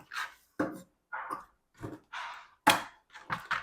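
Scissors cut through cloth for a blouse belt, about eight short crisp snips spaced at an uneven rhythm, close and clear with no talking.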